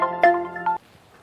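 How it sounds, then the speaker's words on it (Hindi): Mobile phone ringtone sounding a short electronic melodic phrase, two quick bursts then stopping, fairly quiet and alone. "अरे साहब सिंह का फोन।"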